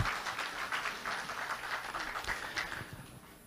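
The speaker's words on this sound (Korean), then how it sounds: "큰 박수 부탁드립니다." A party convention audience claps steadily in a large hall, dense applause sustained throughout and fading slightly at the end, with no talk over it.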